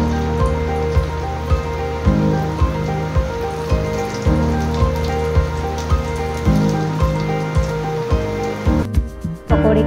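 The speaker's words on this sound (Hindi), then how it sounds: "प्रेस किए हुए पकौड़े को फ्राई करते वक्त गैस की फ्लेम को हाई रखेंगे।" Onion pakoras deep-fry in hot oil over a high flame, giving a dense, rain-like crackle that stays loud and steady, with periodic soft thumps and a tonal hum underneath.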